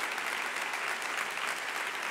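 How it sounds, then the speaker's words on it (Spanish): A church congregation gives loud, dense applause for the Lord, a continuous roar of many hands clapping together without a break. "¿Cuántos le damos un fuerte aplauso a nuestro Señor?"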